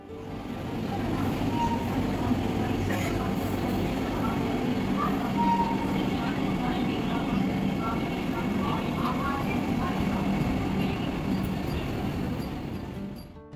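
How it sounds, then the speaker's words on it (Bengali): A Vande Bharat express train rumbles past nearby, a loud sustained roar and rattle of wheels that holds steady before fading at the end. "বন্দে ভারত চলে গেল।"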